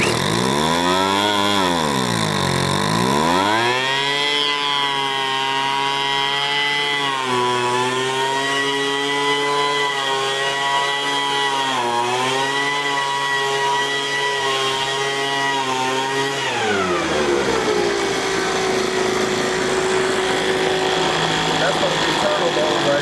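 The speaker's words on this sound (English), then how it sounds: "So we know the blower worked." A small Craftsman 4-stroke engine from a salvaged weed eater with a leaf blower attachment runs loudly up close, its buzzing pitch rising and falling with throttle changes before settling back to a lower idle.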